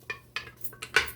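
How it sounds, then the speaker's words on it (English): A wooden spoon works through fufu in a pot, giving four or five dull knocks and scrapes against the pot in quick, uneven succession, close by and without talk. "you have to keep stirring it, folks"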